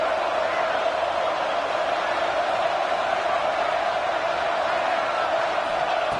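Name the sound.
stadium crowd cheering at a football game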